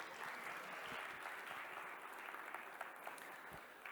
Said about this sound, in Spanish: Fuerte el aplauso, por favor, para Samus.